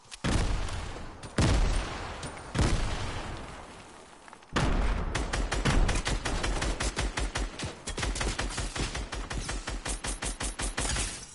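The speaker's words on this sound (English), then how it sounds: "They're getting sniped" Video game gunfire at close range: a few separate heavy shots with decaying tails, then long stretches of rapid, rhythmic volleys that continue to the end, loud and dense with no voices.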